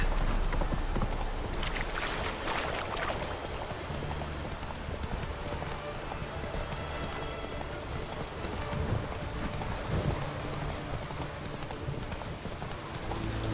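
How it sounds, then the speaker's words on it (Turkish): Steady rain patters in The Witcher 3, a dense continuous hiss close around, with a faint low rumble of thunder underneath and no talk. "Yağmur nereden başladı başımıza bela ya."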